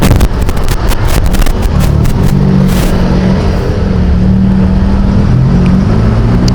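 Road traffic on a busy stretch in Bacoor, Cavite, a steady dense rumble of engines with low droning tones and brief passing whooshes throughout, loud and continuous.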